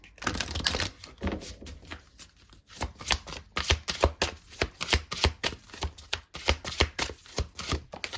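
Tarot cards are shuffled by hand in a dense run of quick riffling, slapping strokes, near and moderately loud, with a softer, sparser start before a steady rhythmic shuffle and no talking.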